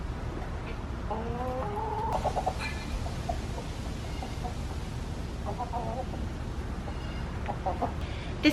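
Broody hens cluck in short clustered bursts, fairly faint against a steady background hum, with scattered pauses between their soft clucks.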